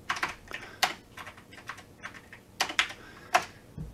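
Quick bursts of computer keyboard typing as a shutdown command is entered on a Windows server, close and crisp, with uneven clusters of keystrokes and short pauses, no voices.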